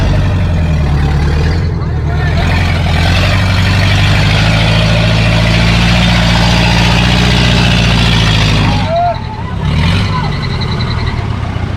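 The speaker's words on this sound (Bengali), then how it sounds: "এই জিপ গাড়িগুলোর অনেক শক্তি।" A jeep engine runs steadily at a loud, close, low idling rumble for the whole stretch, with voices talking over it and a brief dip in the rumble near the end.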